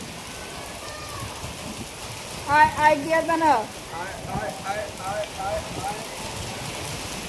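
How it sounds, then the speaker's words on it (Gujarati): Heavy rain pours down in a steady, dense hiss throughout, while voices talk briefly in the middle and a strong wind blows during the storm. "વરસાદ વધી ગયો"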